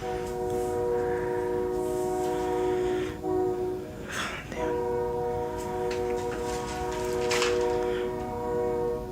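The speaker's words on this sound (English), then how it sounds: "there's a train going on right now" A passing train sounds its horn in long, sustained blasts, the tones cut off briefly and then resuming, heard at a moderate distance with steady rumbling beneath.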